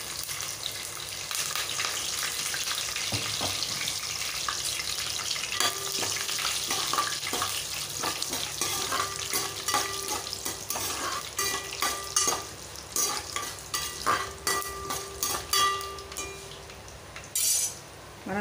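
A spoon stirs and mixes two ingredients in a frying pan, with repeated scraping and clinking against the metal over a soft sizzle. The strokes grow sharper and more spaced toward the end, and there is no talking.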